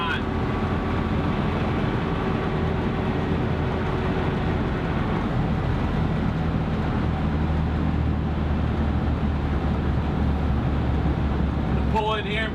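A running 1963 Volkswagen Kombi bus gives a steady drone with a thin whine over the engine and road rumble throughout, and a voice talks over it.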